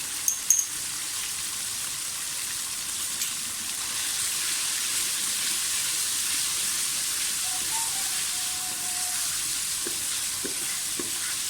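Cumin seeds sizzle in hot oil in a pan for a potato dish: a steady, close frying hiss with a few faint clinks, and no voices.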